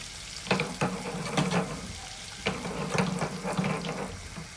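Mint dropped into freshly heated oil for a soup, crackling and sizzling close up in uneven bursts, with a few sharper pops over a steady frying hiss.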